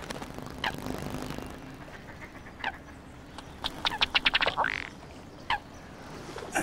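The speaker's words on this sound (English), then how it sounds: "This is a male ruddy duck." A displaying male ruddy duck on a pond on Hampstead Heath in England gives sparse clicks and a quick rattling burst of taps followed by a soft call, faint against the outdoor background.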